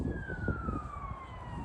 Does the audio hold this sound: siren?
yes